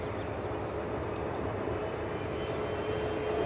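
Southwest airliner taking off from LAX runway 24 left, a steady, moderately distant engine rumble with a continuous low roar and no voices over it.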